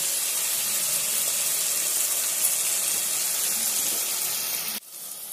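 Ginger, garlic and garam masala fry in a pan for kuska biryani, with a steady, close sizzling hiss that drops away sharply near the end, leaving a fainter background hiss.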